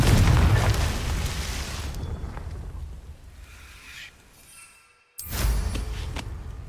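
A Confringo blasting spell explodes in Hogwarts Legacy, a loud booming burst that rumbles and fades over a few seconds, then drops to near silence before another heavy blast erupts.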